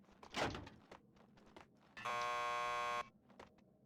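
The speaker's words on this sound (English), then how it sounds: "Just press the buzzer by the door." An electronic door buzzer in the Max Payne 2 video game sounds one steady, loud tone lasting about a second, set among soft game noises and footsteps.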